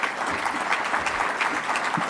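An audience at a district leadership gathering claps steadily, a dense, even patter of many hands heard close throughout the short stretch.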